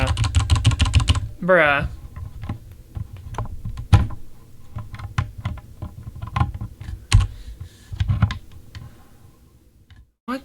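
Rapid clacking keystrokes on a computer keyboard run in uneven bursts with louder key hits, while a voice briefly speaks over the typing.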